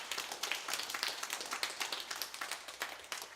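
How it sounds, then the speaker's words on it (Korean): A church congregation at a Sunday worship service applauds in welcome, steady dense clapping from many hands heard at a moderate distance. "우리 박수로 환영하겠습니다."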